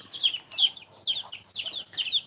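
Hens in a backyard flock cluck and call in short repeated bursts, about five clucks in steady succession at moderate distance, with no talking.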